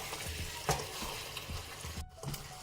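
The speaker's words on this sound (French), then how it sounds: "je vais le laisser encore un petit peu mijoter" Chicken curry simmers and sizzles softly in a pan, a steady low bubbling with an occasional clink of a utensil, quiet and close with no talking.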